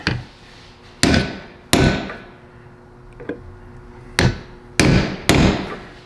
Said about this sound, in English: you can just go in and hit it with your center punch here